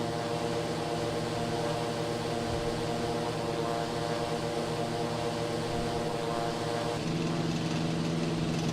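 The Eurofly Twinfox aircraft engine in Microsoft Flight Simulator gives a steady, buzzing drone that holds throughout and shifts slightly in tone near the end, with no talking.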